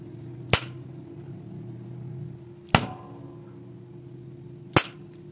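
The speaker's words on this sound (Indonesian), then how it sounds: "dengan pukulan yang ketiga, yaitu pukulan yang keras" Hard blows against a smartphone LCD screen's glass land as three sharp, loud cracks roughly two seconds apart, each standing alone over a faint low hum.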